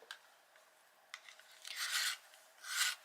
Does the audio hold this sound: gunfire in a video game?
no